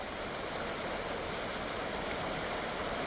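Creek water rushing steadily past the Jim Hinkle Spring River State Fish Hatchery, a dense, unbroken broadband wash that stays close and fairly loud throughout, with no voices.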